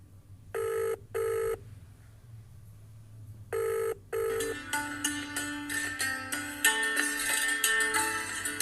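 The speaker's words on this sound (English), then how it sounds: "Ever notice the mobile phone vibrating when it rings?" A mobile phone rings with two short electronic bursts, a pause, then one more burst before a denser melodic ringtone takes over and continues to the end, loud and clear over a low background hum.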